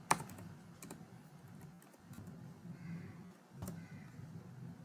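Quiet typing on a computer keyboard while drawing polygons in a CAD program: a few faint, sparse key clicks, one sharper tap at the start, over a low steady room hum, with no talk.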